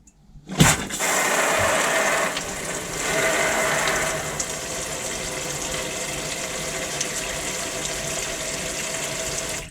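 Water runs steadily from a campervan sink tap on the hot side, its first flow since winter: a sudden gush at the start, then a continuous hiss and splash into the basin that lasts to the end, close by and fairly loud.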